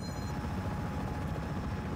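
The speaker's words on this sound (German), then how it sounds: "Also nehmen wir einfach mal den Heli." A helicopter in the video game Just Cause 4 gives a steady, dense rotor roar that fills the whole moment at an even level, alone without voices.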